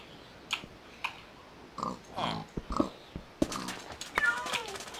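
Several cats meow in the Minecraft video game during a Lucky Block mod session, a few short meows spread out between clicks and other game sound effects, fairly faint.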